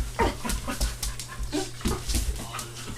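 A puppy pants rapidly and whimpers in bursts while playing, close and fairly loud, with a steady low hum in the background.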